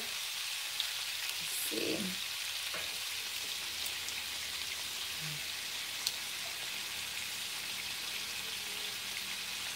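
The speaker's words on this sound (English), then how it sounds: "I'm gonna let that sear" Meat sears in a hot pan for an Irish beer pot roast stew, a steady soft hiss and crackle of frying that carries on evenly, with a few faint clinks and a brief voice.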